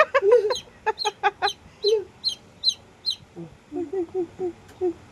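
Chicks cheep in a rapid series of high, short peeps that fade into softer chirps and clucks, close and clear with brief pauses between calls.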